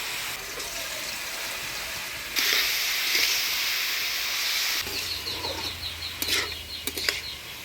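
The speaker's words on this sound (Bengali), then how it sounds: "হলুদ লবণ দিয়ে ভালোভাবে নাড়াচাড়া করে নিলাম" A large rui fish being turned with turmeric and salt in a hot pan, giving a loud, steady hiss of frying with sharper scrapes and clatter toward the end.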